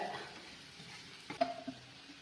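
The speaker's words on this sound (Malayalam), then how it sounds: "ഇത് ഇളക്കാൻ പോവുകയാണ്" Garlic, ginger, green chili and curry leaves sizzle softly in a pan for Kerala pickle masala. A faint, steady fry is broken by a couple of brief scraping stirs near the end.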